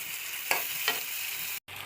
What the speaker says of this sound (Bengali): মুগের ডাল দিয়ে দিয়েছি, কষিয়ে নিব।